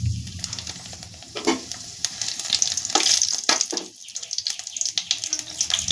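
Bay leaf, nigella seeds and dried chillies hit hot mustard oil in a pan, giving a close crackling sizzle with sharp spatters and pops that swell and ease over several seconds.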